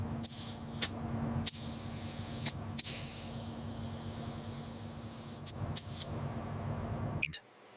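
A spray gun lays a flow coat of clear on a 1971 Chevrolet Chevelle SS in a long steady hiss, punctuated by several sharp clicks of the trigger before cutting off abruptly.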